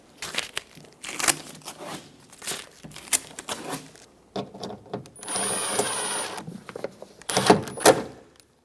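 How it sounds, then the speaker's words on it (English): Weatherproof tape is peeled off the rear window of a 2012-2020 Chevrolet Sonic in several crinkly, tearing bursts separated by short pauses, with one longer steady rip near the middle. "Remove the tape from the window."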